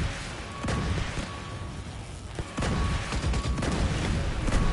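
Gunfire in The Division 2 during a mission to secure an airport: sustained bursts of shots and booming impacts, loud and dense, with sharp cracks standing out through continuous battle noise.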